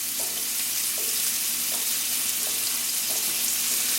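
Half a medium onion sizzling in a frying pan over medium-low heat for a chickpea curry, a steady, even frying hiss with faint periodic clicks from the pan throughout.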